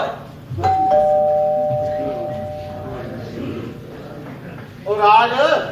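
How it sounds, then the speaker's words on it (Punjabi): A doorbell in a home sounds once near the start, a clear sustained tone that fades out over a few seconds. Voices talk over the ring and come back louder at the end. "ਘੰਟੀ ਵੱਜਿਆ ਪੁੱਤ ਬੂਹੇ ਤੇ ਦੇਖ ਕੌਣ ਹੈ।"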